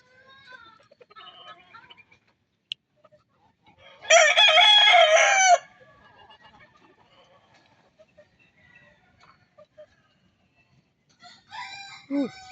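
A loud rooster crow rings out in the middle, with scattered clucking and bird calls around it and another crow starting near the end.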